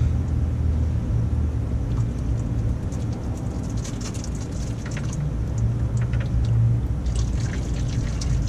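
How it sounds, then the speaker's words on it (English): Motor oil drains from the engine of a Toyota Crown into a small pan during an oil change, a steady, continuous pouring rumble that holds at one level throughout, with no talk. "There's nothing as much fun as taking 11 gallons of oil out with a 2-gallon pan."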